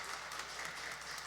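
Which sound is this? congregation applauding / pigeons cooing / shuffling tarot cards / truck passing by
congregation applauding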